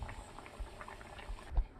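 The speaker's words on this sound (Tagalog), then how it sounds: "I-boil lang natin itong vegetable po natin" Vegetables boil in a pot, a soft, close bubbling and gentle liquid patter that continues steadily over a short stretch.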